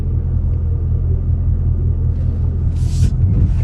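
A 2025 Ford Mustang Dark Horse engine rumbles loud and close, a deep, steady roar held throughout with little change in pitch.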